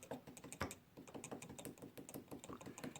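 Keys on a Kurzweil K2500 synthesizer keybed with worn, compressed felt, knocking in a quick irregular clatter of light taps, close and quiet, with no talking.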